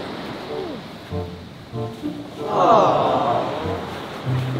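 Waves wash onto a shore in a soft rush, with a louder surge midway, while a few people talk quietly nearby.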